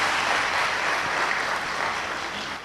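An audience at a spiritual gathering claps enthusiastically, a dense, sustained roar of many hands that holds steady and only slightly fades toward the end.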